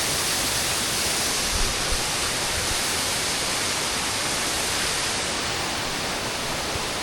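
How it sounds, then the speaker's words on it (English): El Tigre waterfall in Monteverde, Costa Rica, a steady, loud broadband roar of falling water filling the whole stretch without pause, close by and unbroken. "This is our third or fourth waterfall."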